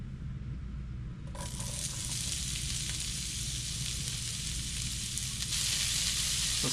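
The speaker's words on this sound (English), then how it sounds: "So we're going to cook these onions down" Onions sizzling steadily in leftover bacon fat in a pan, a continuous close hiss that swells a little louder near the end, no talking.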